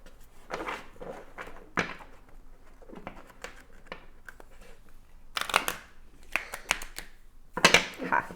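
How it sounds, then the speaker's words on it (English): Riffle shuffling of an oracle card deck, several quick bursts of fluttering card riffles with softer handling taps between them, close and fairly quiet with no talking. "Can do a decent job of riffle shuffling."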